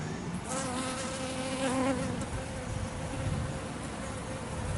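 A bee buzzes steadily close by outdoors, its drone rising and falling slightly over a soft natural background, with no voices.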